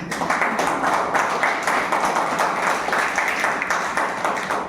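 Loud, steady applause from a large audience at a direct selling training seminar, dense clapping sustained throughout with no talk over it.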